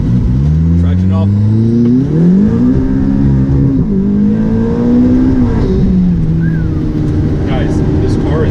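An 830-horsepower ATS GT supercar accelerating hard with traction control off during a 0-to-100 run. The engine drone is loud and close, climbing in pitch through successive gears with brief drops at each shift.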